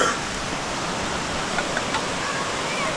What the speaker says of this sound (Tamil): ஃபால்ஸ் அங்கே இருக்குது